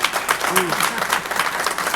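Applause breaks out at a board of education meeting, a brief patter of many hands clapping in the room as a person speaks over it.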